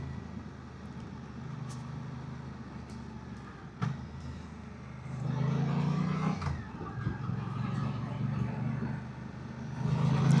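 A 2026 Suzuki GSX 8TT motorcycle rides up a road in traffic, its engine a steady low drone with wind rush that swells louder and more forceful from about six seconds as it accelerates.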